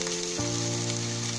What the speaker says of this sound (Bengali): এবং মিক্সড ভেজিটেবলগুলো একসাথে সমস্ত কিছু ভাজতে দেব